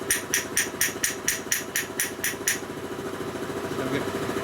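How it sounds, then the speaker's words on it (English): A hammer taps a rusty steel valve on a 1937-48 UL ULH 45ci pump, about ten quick, evenly spaced metallic strikes over a running engine, then the taps stop and the engine hum continues. "I'm tapping on the steel valve, not"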